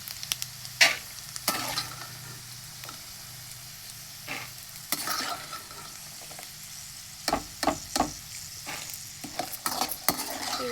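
Peanuts are stirred and scooped out of a hot pan with the heat switched off, giving scattered scraping and clinking strokes over a faint lingering sizzle, close and quiet, with no talking.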